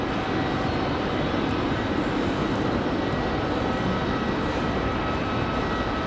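Airliner taxiing into a gate at Raleigh-Durham airport, a steady broadband engine rumble and hiss that stays constant and fairly loud throughout with no voices.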